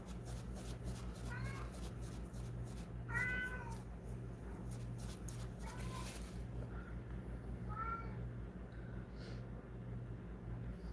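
A house cat meows several times, near and fairly clear, with short rising and falling calls spread over a steady low mechanical hum.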